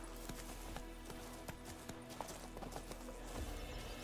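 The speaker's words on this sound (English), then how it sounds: "I'm trying to make my horse stop, but it doesn't seem to want to" Steady clip-clop of a horse's hooves in The Witcher 3: Wild Hunt video game at a quick, regular pace, fairly faint, continuing throughout over a low background hum.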